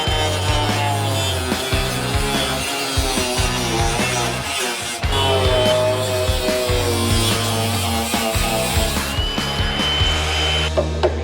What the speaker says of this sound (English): So we just have these last two corners to cut out.